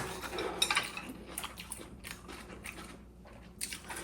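Close chewing and crunchy biting on a mouthful of bean sprout japchae rice, soft irregular crunches with faint clinks of cutlery or dishes in the background.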